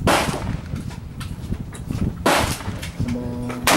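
A Hatsan 135 .25 caliber air rifle fires at an outdoor range with a sharp crack, amid steady wind noise.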